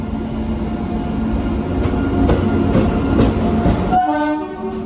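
Passenger train running on rails during a night journey from Delhi toward Khatu Shyam, a steady loud rumble with clattering wheels and a horn-like tone near the end, no talking.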